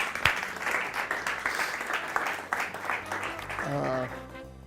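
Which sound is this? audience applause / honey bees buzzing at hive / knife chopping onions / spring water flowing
audience applause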